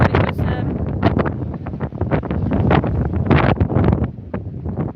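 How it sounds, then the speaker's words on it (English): Gusty wind in Benidorm rumbles and buffets the microphone in uneven bursts, loud and close, with no clear talking. "very windy up here today."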